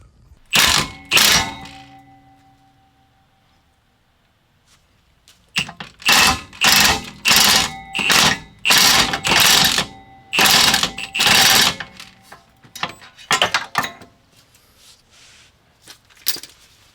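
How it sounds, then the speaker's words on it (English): An impact wrench or air tool removes the brake caliper bracket bolts on an Audi B5 S4, with two short rattling bursts followed by a series of loud, rapid ratcheting bursts after a pause. "So those two are the bolts we're removing, and that'll allow us to take the caliper bracket off."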